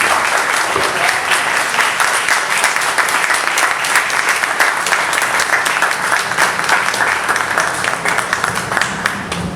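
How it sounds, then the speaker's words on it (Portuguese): Audience applause at a book launch event, dense sustained clapping from a crowd filling the whole stretch at steady loudness, with no speech over it. "E a salva de palmas nesse momento é para os senhores."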